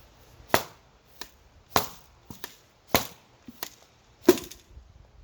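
Six sharp pops from a Nerf blaster firing ball ammo, one at a time with uneven gaps, each a crisp snap that dies away quickly, close by with no talking.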